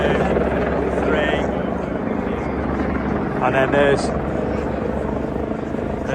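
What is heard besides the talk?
helicopters flying overhead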